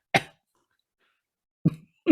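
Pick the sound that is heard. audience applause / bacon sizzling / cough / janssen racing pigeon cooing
cough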